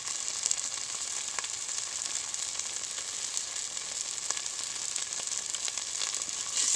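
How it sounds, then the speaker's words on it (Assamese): Onion and tomato puree frying in oil in a pan for a paneer and pea gravy, giving a steady, close hiss of sizzling with faint scattered pops throughout. "পিউৰিখিনিয়ে তেল এৰি দিয়ালৈকে মই এইখিনি ফ্ৰাই কৰি থাকিম।"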